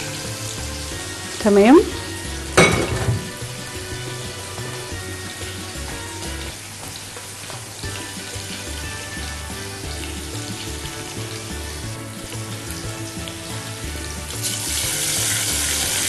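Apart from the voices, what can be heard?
onions frying in a pan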